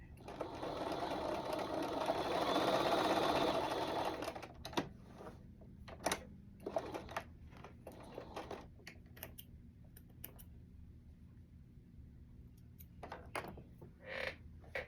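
A sewing machine stitches a cotton sweater in one steady whirring run lasting several seconds, then stops. Scattered taps, clicks and handling noises follow at close range.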